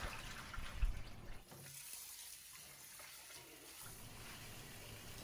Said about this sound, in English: I will dump the water and put fresh water in it and wash it all over again